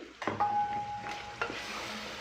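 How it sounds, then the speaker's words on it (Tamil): Tomato and coconut paste being stirred and sautéed into a pot of mutton gravy, a close scraping stir over a steady sizzle, with a few spoon knocks against the pan. "இதையும் மிக்ஸ் பண்ணிக்கோங்க. மிக்ஸ் பண்ணி ஒரு 5 மினிட்ஸ் சாட்டே பண்ணிக்கோங்க"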